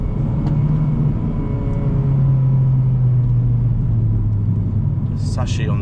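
Cabin rumble from a Honda Civic Type R FD2 on the road in Japan, with a steady low engine drone and a tone that shifts with speed, close and continuous throughout.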